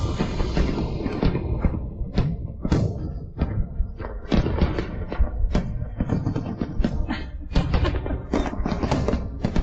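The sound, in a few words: fireworks exploding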